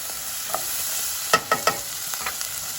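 Carrots are sautéed with other vegetables in a pan, a faint steady sizzle under a few quick scraping stir strokes, close and quiet with no talking.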